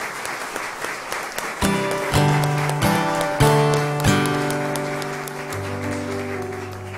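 Congregation at a Catholic Mass applauds its priests, a broad wash of clapping swelling in a church space while an organ or keyboard sustains chords underneath, steady and fairly loud throughout.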